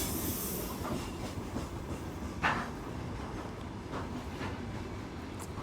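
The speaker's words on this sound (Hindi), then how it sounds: "ए लो जी, अपनी ट्रेन आ गई।" A passenger train arriving at a station on a journey from Kazakhstan to Russia, with a continuous loud rolling rumble, rhythmic wheel clatter and hissing. It plays close and alone, with no talk over it.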